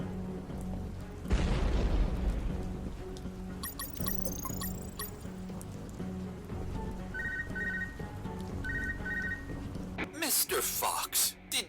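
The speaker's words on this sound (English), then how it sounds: "The platform collapsed after the ballistic abuse from all the missiles." A platform in the video game UnMetal collapses after missile hits, a heavy booming crash rising suddenly, then a rumbling stretch with electronic game tones, ending in a loud burst of crashing debris.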